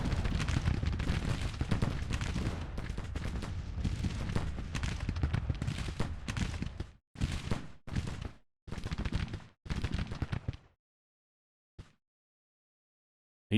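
Musket and rifle volleys from Civil War infantry with Springfields and smoothbores in Grand Tactician: The Civil War, a dense rolling crackle of gunfire for about seven seconds, then several separate bursts before fading to near silence.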